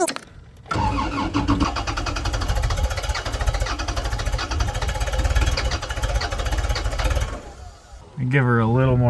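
A cold engine cranks and catches, then runs roughly and idles loud and close for several seconds with throttle raised, before a voice speaks as the engine keeps going.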